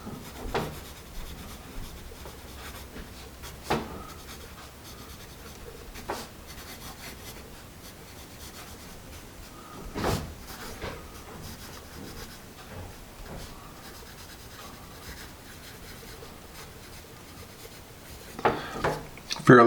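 A Nataraj 2-for-1 pencil, made by the Hindustan Pencil Company, scratches softly across paper in faint, close strokes, broken by a few sharper taps and rubs.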